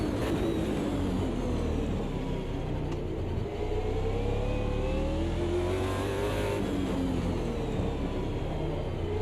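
A race car engine accelerating hard around the Adelaide street circuit, a loud steady roar with rising and falling pitch as gears change, close and continuous with no talk.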